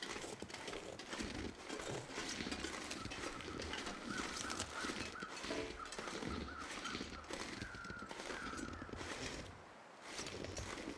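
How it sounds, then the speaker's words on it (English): Carrion crows calling in the survival game The Long Dark, several caws over a busy, noisy ambient game soundscape, fairly faint and intermittent. "Those are carrion crows, not bear crows."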